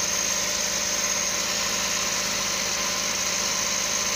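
A Suzuki DA63T multicab engine running at high RPM with a hard-starting fault, giving a steady, unbroken mechanical drone with vibration, close and fairly loud.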